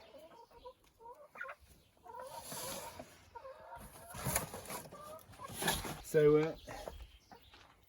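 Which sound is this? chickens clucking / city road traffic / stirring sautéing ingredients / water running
chickens clucking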